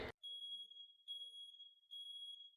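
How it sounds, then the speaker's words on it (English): A smoke alarm chirps three times at a steady, high, piercing pitch, with short pauses between chirps and no voices. "you've got a smoke detector that resembles this one and has good battery, but it's still beeping"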